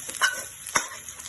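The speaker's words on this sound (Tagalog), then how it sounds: "Ayan guys, igisa na tayo. Sibuyas bawang." Onion and garlic sautéing in a pan, with a quiet steady sizzle broken by two sharp clinks or stirring scrapes near the start and middle, close and alone without voices.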